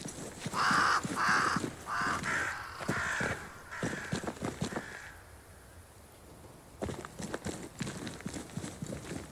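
Crows caw in several loud harsh bursts early on within a Banishers: Ghosts of New Eden game scene, then fade out, leaving quieter game ambience and footsteps.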